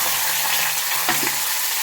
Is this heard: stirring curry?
yes